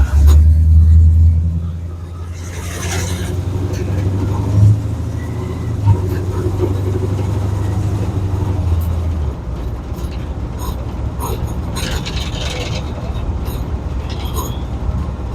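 A Chevrolet C10 pickup truck drives along, its engine a steady low rumble that dips after the opening seconds and then holds continuous, with road and wind noise and a voice speaking over it at times.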